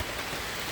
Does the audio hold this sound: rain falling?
yes